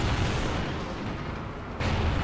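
Explosions in a shooter video game come as a dense, loud wall of booming blasts that rumble on continuously, with a fresh burst near the end.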